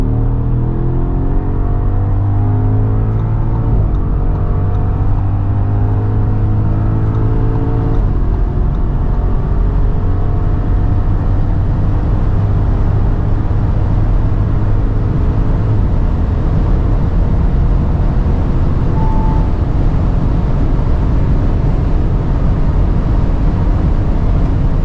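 A 507 hp 2026 Audi SQ7 with a V8 TFSI engine accelerates hard to its 250 km/h limit. The loud, steady engine drone rises in pitch through several gear changes, heard from inside the cabin over constant road and wind roar.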